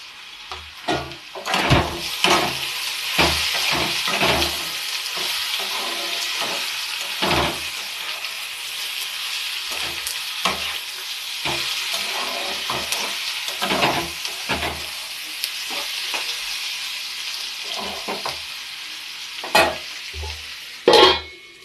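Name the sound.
bottle gourd peel frying and stirring in a pan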